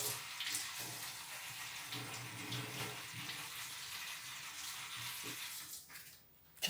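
Tap water runs steadily over food being washed in a sink, a constant splashing hiss at moderate level that drops briefly near the end before a final splash.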